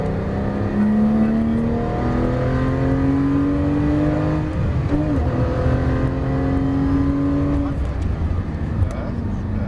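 A race car on a circuit accelerates steadily out of a corner, its engine note climbing in loud, sustained harmonics from inside the cockpit, with a brief dip midway before the revs build again.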